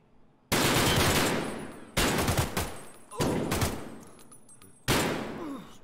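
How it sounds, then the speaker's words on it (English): Gunfire in the shooter game Escape From Tarkov, four loud bursts of rapid automatic shots, each cutting in sharply and trailing off with echo, no voices over it. "Shots to the left."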